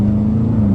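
Car engine in first gear with paddle shifters, a steady loud low drone held for under a second.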